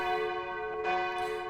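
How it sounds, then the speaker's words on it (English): A school bell rings in the game The Shell: Inferno, a steady sustained ringing tone with a brief swell partway through, heard alone at moderate level. "the bell rang nearly at the exact moment I stepped onto campus"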